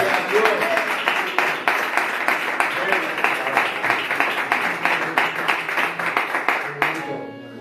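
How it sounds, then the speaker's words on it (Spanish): A church congregation claps in praise after a scripture reading, a full, rhythmic burst of applause that holds steady and then stops abruptly, with a voice starting at the end. "Le damos un aplauso a la palabra del Señor"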